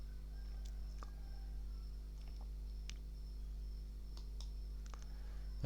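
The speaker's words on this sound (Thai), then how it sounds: "คลิกปุ่มเข้ามาสร้างนะครับ" Mouse clicks on the create button in PowerPoint: several faint, sharp clicks scattered over a steady low hum, with no talk.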